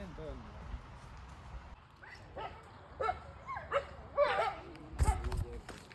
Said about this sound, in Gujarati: કૂતરા બાજે છે ભાઈ